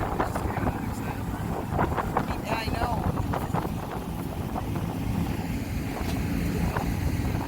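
A whale-watching cruise boat's engine roars steadily at speed beneath heavy wind buffeting and splashing water, while people exchange a few brief words over the noise.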